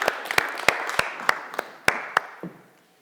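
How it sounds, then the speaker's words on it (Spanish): A church congregation claps along during a worship service, sharp separate claps landing in a steady beat of about eight strikes before fading out, with no talk over them. "Y si va a aplaudir, vamos, hagámoslo bien"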